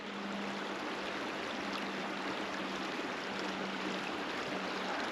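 Fast, cold river water rushes steadily past on a snowy day, a continuous broadband hiss from nearby current with no talking.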